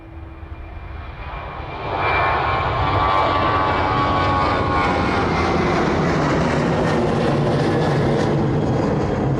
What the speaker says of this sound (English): And the Ryanair service making its way down towards us now.